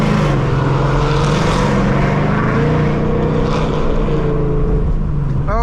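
A Mustang engine gives a steady, loud drone throughout with low rumbling harmonics, close by, like a car idling or cruising with no one speaking.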